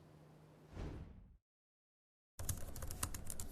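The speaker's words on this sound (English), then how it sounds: "Sitting at his dining table, typing away at the keyboard" A professor types at a computer keyboard at a dining table, with quick, close, crisp key clicks rattling steadily after a brief silent gap.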